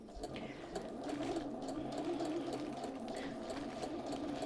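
A sewing machine runs steadily while stitching a shirt, its even mechanical whir holding close and continuous through the whole stretch, with no speech over it.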